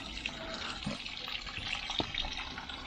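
Water mixed with Acriflavine pouring steadily into a fish pond, a continuous splashing trickle with a few brief louder drips.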